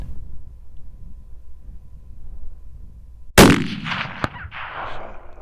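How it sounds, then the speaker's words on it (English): A single sharp rifle shot cracks out during an outdoor coyote hunt, loud and close after several seconds of quiet wind, followed by a brief metallic click and a fading echo. "Gonna have to shoot it again."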